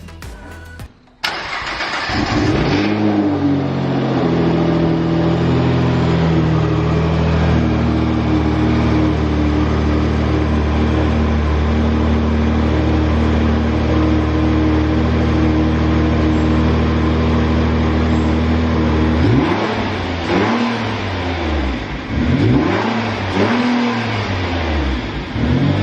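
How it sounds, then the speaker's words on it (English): A Nissan GT-R fitted with a cold air intake cranks and fires up, then settles into a loud, steady idle with a few revs building near the end; close and alone. "I'm gonna start up the car now and let's see if we hear any leaks"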